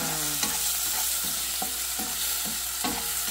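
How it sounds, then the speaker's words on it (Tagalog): Garlic, ginger and onion sautéing in a pan, a steady close sizzle with a spoon stirring and tapping the pan at regular intervals. "I am sauteing"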